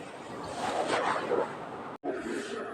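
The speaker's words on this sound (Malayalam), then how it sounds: "ഇതുപോലെ എണ്ണയിലേക്ക് ഇട്ട് കൊടുക്കാം" Potato snacks drop into hot sunflower oil in a nonstick pan over a medium flame, producing a steady, close broadband sizzle with one momentary cut near the end.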